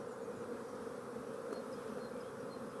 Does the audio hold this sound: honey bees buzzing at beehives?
yes